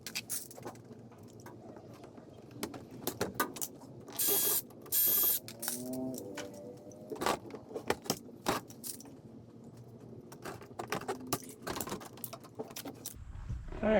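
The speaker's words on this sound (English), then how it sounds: "and then we'll get them pop riveted on" A pop rivet gun clacks and snaps several times while fastening a flattened metal tack strip onto a homemade car door card, the mechanical clicks coming in short, irregular bursts in a quiet workshop.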